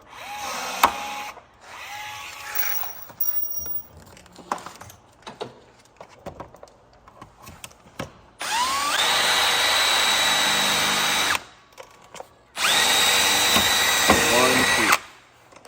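A power drill drives self-tapping screws through a urethane front bumper while fitting a Tesla Model 3 front lip splitter, giving two sustained loud bursts of whirring after scattered quieter handling noises and brief talk.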